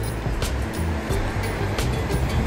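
Surf washing onto the shore at Aare Ware beach near Ratnagiri on the Konkan coast, a steady broadband roar with a few louder wave pulses, heard fairly close and alone without talk.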